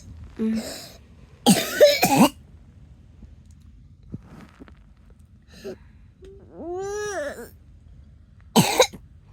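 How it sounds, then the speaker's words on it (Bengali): A child coughs loudly up close in a few separate harsh bursts, with a short whiny vocal sound between them. "কাশতেছো কেন, কি হয়েছে?"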